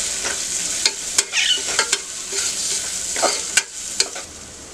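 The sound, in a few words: spices sautéing in a pan for masale bhaat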